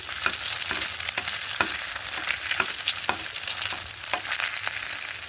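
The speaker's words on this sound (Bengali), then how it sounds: "এবার ডিমটা ভেজে নেব" An egg fries in a pan beside potatoes already browned, with steady loud sizzling and periodic scraping stirs of a spatula, close and continuous with no talk.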